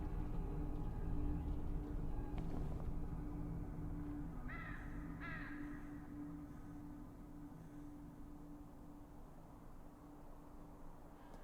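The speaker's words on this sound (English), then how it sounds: "It's inhabited by dozens, if not hundreds of crows? Damn scavengers." Crows caw around a tall tree in the video game Saint Kotar, a few distinct harsh calls sounding near the middle over a steady low ambient hum, no talking.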